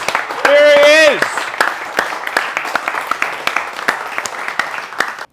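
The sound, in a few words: audience applause for a speaker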